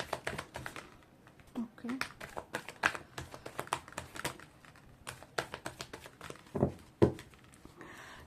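A deck of tarot cards being shuffled by hand gives rapid, crisp riffling taps and flicks in uneven bursts, close and fairly quiet, while someone speaks briefly.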